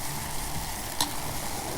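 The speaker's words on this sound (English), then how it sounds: "Ooh, it's bubbling." Liquid being boiled in a quiz-style demonstration, giving a steady close bubbling and sizzling hiss with one brief sharp pop near the middle.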